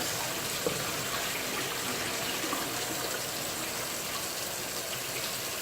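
Water poured in to wash kidney beans for Jamaican rice and beans: a steady, loud rush of running water, close and continuous throughout.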